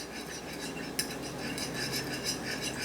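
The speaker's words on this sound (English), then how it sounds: "Take a fork, break it up and stir it around." A fork whisks two eggs in a bowl for a gluten-free batter, giving rapid, steady metallic clicking and scraping with one sharper clink, close and moderately quiet, with no talking.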